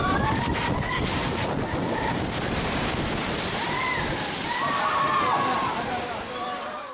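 Heavy rushing splash of water from a log flume boat dropping down a hill on Splash Mountain at Disneyland, a loud continuous wash and slosh with wind buffeting the microphone.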